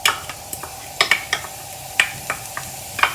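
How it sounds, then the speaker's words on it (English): Chopped onions frying in hot oil in a pan for Anglo-Indian chicken vindaloo, a soft sizzle under repeated sharp scraping clicks from a utensil stirring at an uneven rhythm. "I'm going to add in our chopped onions."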